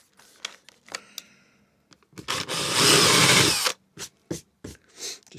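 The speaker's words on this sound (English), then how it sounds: "I don't have a countersink, so this is that could be a 12mm drill" A power drill with a 12mm bit countersinks a hole in camper van flooring, a loud steady whir for about a second and a half, surrounded by short clicks and knocks of handling.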